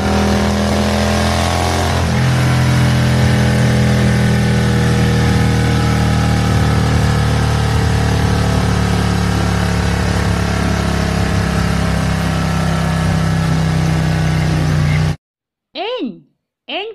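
A motorcycle engine runs steadily and loudly for a long stretch, a constant droning hum, then cuts off into brief silence with short bursts after.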